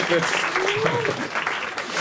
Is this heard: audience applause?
yes